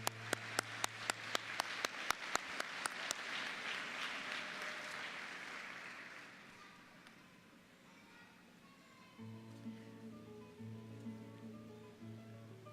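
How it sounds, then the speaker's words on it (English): Applause at a college graduation for academic award winners: a few distinct claps open, swell into a broad wash of clapping that fades, then sustained music-like tones enter under it. "Let's give a round of applause to our Academic Achievement Award winners."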